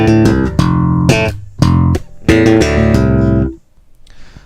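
Bass guitar played with slap attacks and a strummed chordal figure, several punchy phrases over about three and a half seconds, loud and up close, then ringing out into near silence.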